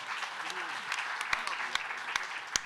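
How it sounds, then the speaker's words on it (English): Light scattered clapping from a small audience, thin and somewhat distant, lasting a couple of seconds with a few sharper individual claps. "So a big round of applause for Matteo."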